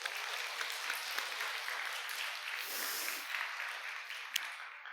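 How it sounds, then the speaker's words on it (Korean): A church congregation at a Sunday worship service applauds, a faint, steady wash of clapping lasting throughout with a brief sharper clap near the end. "박수로 하나님께 영광을 드립니다."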